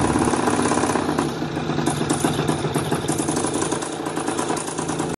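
A small engine idles loud and close, its dense, steady chug running on an ignition coil repaired with a wood screw and a weak spark, then cutting off abruptly at the end.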